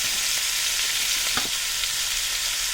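Chopped onions and green chillies frying in a pan for a crab pickle, giving a constant bright sizzle with a few soft stirring knocks midway.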